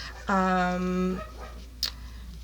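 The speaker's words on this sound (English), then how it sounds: "If you hear my dog in the background" A dog lets out a drawn-out whining howl lasting about a second, fairly close, followed by a quieter short yelp.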